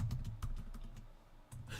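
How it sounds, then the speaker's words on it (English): Typing on a computer keyboard, a quick irregular run of close, crisp key clicks with a brief pause before a final burst, no voices present. "I'm being unprofessional and typing"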